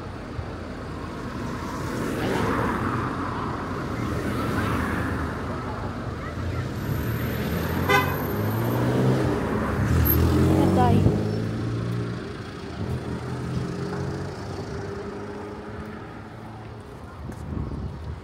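Busy roadside traffic with cars and motorbikes passing close by, a steady wash of engine noise and wind buffeting the microphone, with a brief high tone near the middle; someone talks over it.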